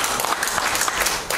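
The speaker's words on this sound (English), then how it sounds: "Give the Lord a hand clap this morning." A church congregation at a morning service claps their hands, a continuous, close burst of many hands clapping together.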